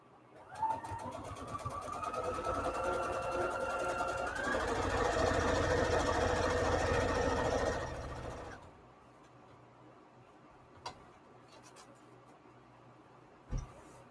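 A sewing machine stitches quilt strips with a quarter-inch seam, whirring steadily and close for about eight seconds, then stopping, followed by quiet room tone and a couple of soft thumps.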